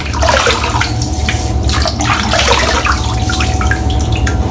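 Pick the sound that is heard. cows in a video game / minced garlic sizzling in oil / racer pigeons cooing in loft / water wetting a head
water wetting a head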